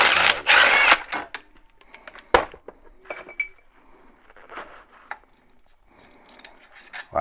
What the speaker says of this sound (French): On fait sauter le deuxième écrou.